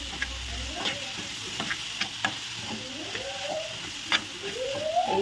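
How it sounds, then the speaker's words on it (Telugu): A spoon stirs jaggery into sweet potato halwa in a kadai with a steady scraping, swishing rhythm over a soft sizzle, close and moderately loud, with occasional sharper clicks of metal against the pan. "బెల్లం వేసి అయితే మంచిగా అయితే కలిపేసుకోవాలి"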